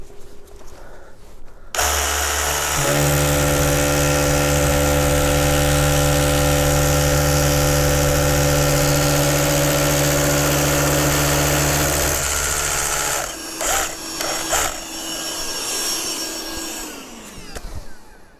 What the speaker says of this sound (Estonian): Hakkame puurima, vaatame, kuidas tolmutab või üldse.